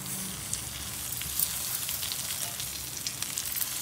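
Green chillies frying in a pan alongside chicken, a steady loud sizzle with crackling spits throughout and no talking.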